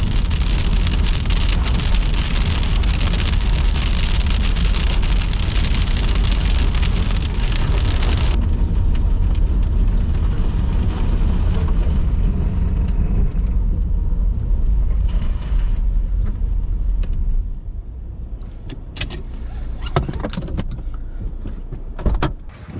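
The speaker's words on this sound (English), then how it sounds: "This is hail falling right behind a hail core." Hail from a storm hammers a car in a loud, dense roar of rapid impacts that cuts off abruptly partway through, leaving lighter scattered hits and patter afterward.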